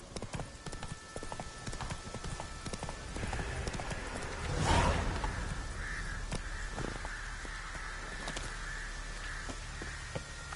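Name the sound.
horse Roach galloping in video game The Witcher 3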